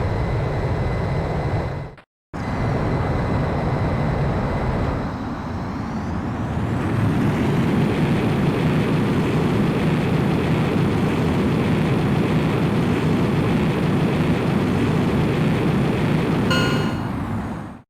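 Fighter jet taking off in the video game Ace Combat X, with a loud, steady engine roar that briefly cuts out, then swells and rises in pitch as the jet accelerates, continuous and close.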